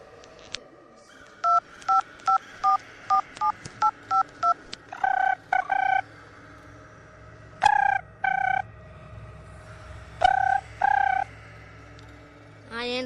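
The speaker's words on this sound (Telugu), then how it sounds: "పదా హరిగడికి ఫోన్ చేసి పిలు." A telephone is dialed, a quick run of short beeping keypad tones, followed by repeated ringback tones in long paired bursts, loud and close in a quiet indoor setting with no talking.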